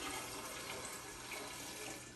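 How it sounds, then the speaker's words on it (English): Stirred prickly pear margarita pours steadily into a jar holding ice and tequila, a continuous close splashing liquid stream with no talk over it. "I'm gonna pour it directly into the jar with ice and tequila."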